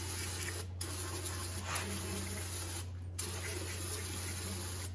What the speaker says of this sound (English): Give it a good healthy spray.